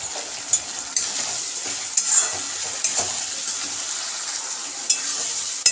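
Chicken frying for chilli chicken with Kashmiri red chilli powder, a steady close sizzle broken by sharp clinks and scrapes of a spoon stirring against the pan roughly once a second.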